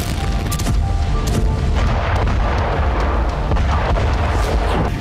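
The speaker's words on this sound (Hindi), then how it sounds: "रिहायशी इलाकों में लगातार बमबारी से दहशत बढ़ती जा रही है" Heavy bombardment explosions in residential areas of Kharkiv, loud and continuous booms rumbling one after another with dense low roar, no voices.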